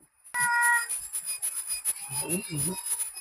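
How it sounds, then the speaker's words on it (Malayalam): A cat gives a few short meows, mixed with other household noises and a brief high electronic tone, fairly close. "പൂച്ച മീനാന്ന് വെച്ചിട്ടാ കരയുന്നേ"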